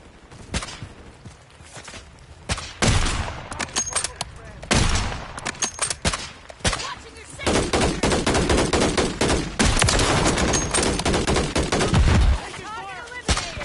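Bursts of rapid automatic gunfire and single shots in the Call of Duty video game, loud and close, with short pauses between volleys and a voice talking faintly underneath.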